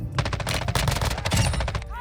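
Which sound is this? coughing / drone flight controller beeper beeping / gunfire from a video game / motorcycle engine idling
gunfire from a video game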